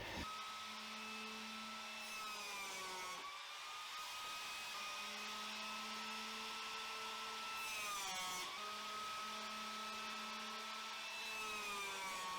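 A biscuit joiner whines steadily as it cuts spline slots into mitered wood corners, a continuous high-pitched motor drone with two brief dips where the cut pauses.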